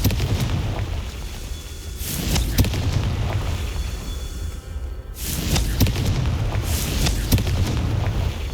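Confringo fire spell blasts in the video game Hogwarts Legacy, heavy booming explosions that come in two loud waves over a constant rumbling game backdrop, with no one talking.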